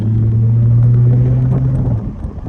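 A Dodge Hellcat's engine rumbles with a steady, deep low drone while cruising through Atlanta at night, close and continuous, easing slightly toward the end with no talking.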